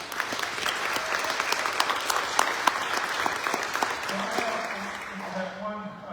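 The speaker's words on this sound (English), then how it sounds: "let's do a round of applause to Chairman Griffith for putting together this esteemed panel" Steady applause from a seated audience at a school administrators' panel, many hands clapping densely for about six seconds before thinning out, with a faint tone and murmur near the end.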